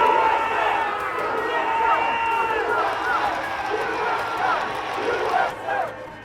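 A large crowd at a Trump rally makes a loud, continuous roar of voices and rhythmic chanting, with shouts and cheers rising and falling close by, and no single speaker stands out from the mass of sound.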